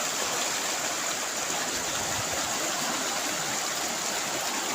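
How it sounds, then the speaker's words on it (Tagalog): River water flowing steadily, a dense continuous rushing hiss close by and constant in level, with no talking over it. "So makikita mo yung ilog dito guys."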